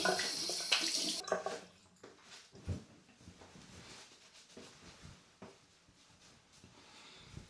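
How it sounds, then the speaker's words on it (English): A tap runs water into a sink during face washing, with a burst of loud gushing at the start that settles into softer splashing and intermittent hand-splash noises close by. "Let me just get my face washed."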